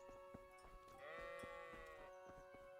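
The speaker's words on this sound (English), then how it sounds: "Anytime I hear a sheep or a goat or anything, or I think it's a sheep" A sheep bleats in the medieval video game Kingdom Come Deliverance: one drawn-out bleat near the middle, faint and alone, with soft clicking sounds around it.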